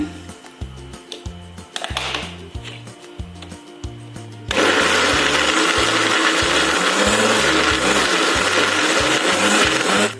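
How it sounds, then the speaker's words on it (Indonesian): Loud, steady electric blender grinding spices (garlic, candlenut, turmeric and chili with water) starts partway through and runs continuously to the end, with background music underneath throughout. "udang ebinya juga di blender ya"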